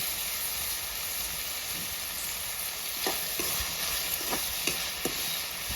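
Onions and tomatoes are stirred in a pan until soft, with a steady sizzling hiss of frying throughout and a few sharper scraping strokes of the spoon toward the end, close and fairly loud.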